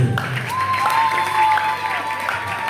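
A church congregation applauds and acclaims during a cultural day, a steady wash of clapping and crowd noise with a sustained tone running underneath.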